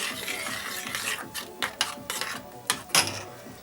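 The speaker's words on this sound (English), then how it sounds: "And whisk it around again." A whisk scrapes and clinks against a pot of porridge, several quick irregular metallic strokes close by, fairly quiet, with no talking.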